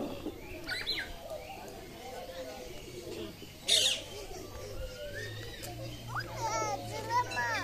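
Low, soft pigeon coos drift beneath children's chatter and scattered bird chirps outdoors in a park on Koh Samui, Thailand.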